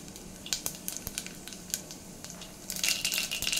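Mustard seeds and cumin hitting hot oil in a pan for a Telugu amaranth leaf curry, scattered sharp pops and crackles that swell into a brighter, steady sizzle near the end, close and fairly quiet.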